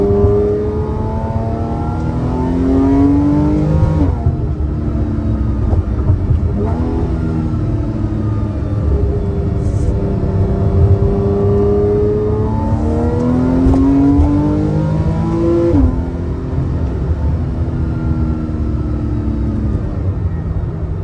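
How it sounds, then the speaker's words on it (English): A Porsche 911 C4S of the 997.2 generation with its rear-mounted flat-six boxer engine revs repeatedly, the tone climbing and falling in several smooth sweeps, a loud sustained drone with no talking. "Hear that engine wind up in the back."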